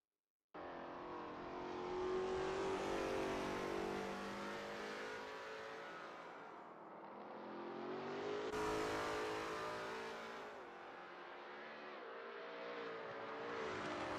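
Lola T70 MkII Spyder race car at Kyalami in a racing video game, its engine roaring loud and continuous for the whole stretch, pitch rising and falling through gear changes and corners with no talk over it.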